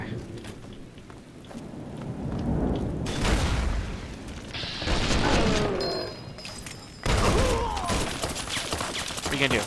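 Gunfire in Fallout: New Vegas comes as loud, roaring bursts of rumbling shots in several surges over a steady noisy bed, close and harsh, with a voice speaking faintly underneath.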